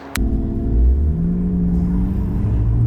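Tuned 700+ hp BMW M8 Competition on a Nürburgring lap, a deep loud engine rumble after a short click, holding a steady drone with a slowly rising tone as it pulls, no talking.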